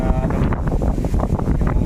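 Strong wind blows near a fishing boat under repaint, a loud, continuous roaring rush buffeting the microphone close up.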